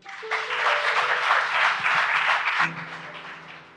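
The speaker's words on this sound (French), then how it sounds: "On applaudit bon Dieu." A church congregation breaks into loud applause for God, a dense wash of many hands clapping that swells and holds for about two seconds, then fades as a sustained organ-like tone rings underneath.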